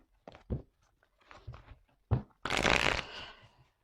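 Tarot cards handled and laid down at a reading, with short papery slaps and flicks followed by a longer riffling shuffle, close and fairly quiet.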